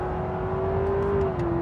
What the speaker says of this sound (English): revving to charge the battery